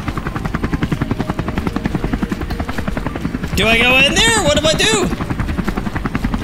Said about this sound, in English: Do I kill the chopper?